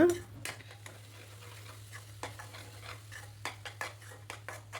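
Spice masala with salt stirred in a pan for a drumstick and chicken dish, faint soft sizzling under a low hum, with intermittent scraping strokes of a spoon against the pan.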